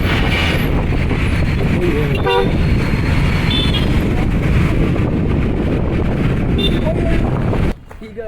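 A horn toots briefly around the middle, rising over steady wind-buffeted outdoor noise and voices, then the sound cuts off near the end.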